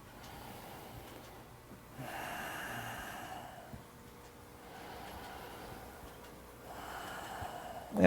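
Soft breaths in and out during a gentle bone-and-balance exercise class, faint and close, rising in a few slow swells against a quiet background.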